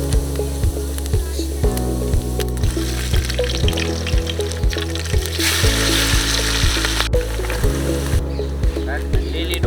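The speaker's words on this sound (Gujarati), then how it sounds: "તો મિત્રો તેલ ગરમ થઈ ગયું છે. આ આખું જીરું નાખી દઈશું પહેલાં" Whole cumin, ginger and whole spices such as red chillies, bay leaf and cloves crackle and fry in hot oil in a home kitchen pan, a steady close sizzle with soft clatter running throughout.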